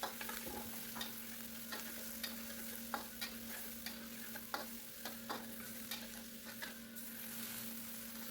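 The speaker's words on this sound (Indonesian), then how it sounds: "kita akan tumis dulu bawang bombay" Onion and garlic sauté in a pan for nasi kebuli, a faint steady sizzle broken by regular scraping stirs of a spatula, with no talking.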